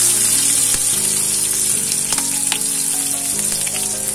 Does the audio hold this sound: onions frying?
yes